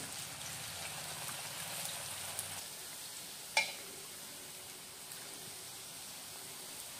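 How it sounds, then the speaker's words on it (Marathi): Rose bread pizza fries in hot oil, giving a soft, even hiss and sizzle that runs throughout at low level, broken by a single sharp clink near the middle. "बघा, आता आपल्याला हे तळून घ्यायचं आहे।"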